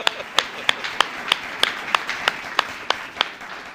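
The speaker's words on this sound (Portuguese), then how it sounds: "Uma salva de palmas ao Senhor, por favor." A church congregation clapping in unison, about a dozen sharp, evenly spaced claps in a steady rhythm, fairly loud and close.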